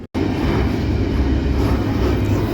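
A ride aboard an intermodal freight train out of Kansas City gives a loud, steady roar of wheels and rolling stock that starts abruptly after a brief cut and holds constant.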